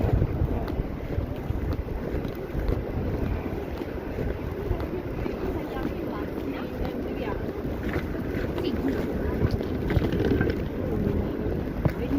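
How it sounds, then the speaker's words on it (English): Strong wind gusts outdoors in London, roaring and buffeting the microphone with low rumbling that rises and falls, loud and close throughout. "this wind is going up and down, up and down"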